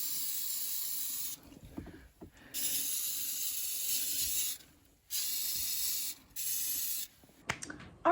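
A mold-treatment spray is applied inside a cabin in four separate hissing bursts of a second or two each, with quiet gaps and small handling clicks between them.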